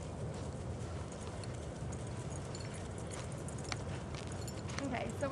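In an arena, a horse's hooves beat in a steady loping rhythm on soft ground, close and continuous, while a person talks over the sound.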